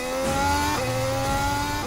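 Formula 1 race cars drive on track during a Grand Prix, their engines a continuous high whining drone with shifting pitch throughout.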